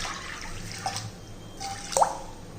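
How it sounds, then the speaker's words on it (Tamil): Water poured into a kadai of soaked brown chickpeas gives faint, sparse dripping and splashing sounds, with a small burst near the end, in a quiet kitchen. "இப்போ இதில் தண்ணி ஊற்றிக்கிடுவோம்."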